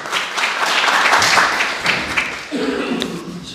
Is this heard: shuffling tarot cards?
no